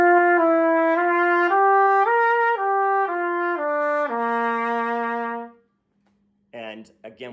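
A trumpet plays a Chickowitz flow exercise: smooth, connected sustained notes step downward before climbing back up, steady and close for about five seconds, then a short silence and a brief burst of another sound.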